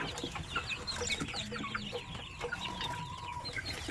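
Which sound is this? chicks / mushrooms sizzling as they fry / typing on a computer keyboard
chicks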